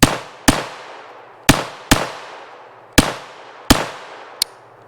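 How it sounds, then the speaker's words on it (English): A Ruger pistol is fired seven times with old ammunition taken from a Ziploc bag, each shot a sharp, loud crack with a short ringing tail, spaced irregularly about half a second to a second apart, the last one lighter. "time for the Ruger. It has been a long time since I have fired this"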